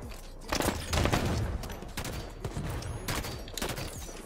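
Sustained assault rifle fire in the Halo 5 video game, fast overlapping bursts that stay loud and dense for a few seconds over constant game noise, with brief lulls between volleys.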